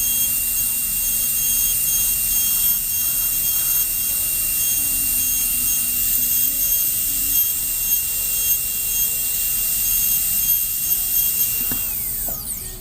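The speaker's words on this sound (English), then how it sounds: "I'm gonna use a burr to round it up" A high-speed dental burr grinds the sharp edges of a stainless steel crown, producing a steady high-pitched whine that runs continuously and close for about twelve seconds before winding down.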